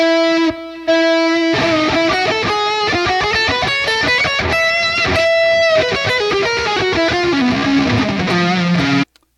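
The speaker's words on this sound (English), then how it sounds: "Now when I volume swell, if you're listening, it goes from the left to the right, it pans." An electric guitar plays a run of volume-swelled notes that fade in softly, with echoing delay repeats panning from left to right behind them, loud and continuous until a sudden stop.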